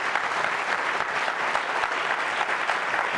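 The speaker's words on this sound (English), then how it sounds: "Can we give them a big round of applause and just thank them for their time" Audience applause at a downtown business forum, dense steady clapping from a large room that lasts the whole stretch without talk.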